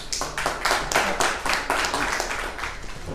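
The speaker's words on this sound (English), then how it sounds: "And special applause for Centralia and George." Applause from an audience at a live show, a steady roll of many hands clapping with pulsing loudness, fairly close and loud, with no voices over it.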